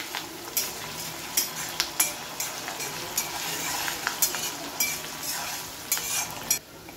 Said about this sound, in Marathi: 10 ते 12 कढीपत्ता टाकायचा आणि त्याला चांगलं परतून घ्यायचं।